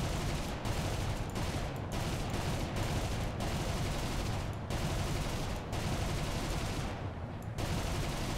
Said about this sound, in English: Okay, here we go for some gunfire.